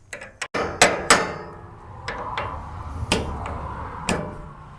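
A hammer strikes a wrench to shock seized parts loose while pulling the engine from a Timberjack skidder outdoors: sharp metallic blows, about eight of them, at an irregular pace, close and fairly loud.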